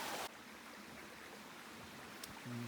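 Steady, faint rushing of a creek near the waterfalls at Ka'au Crater, Hawaii, a soft even hiss of flowing water with no voices.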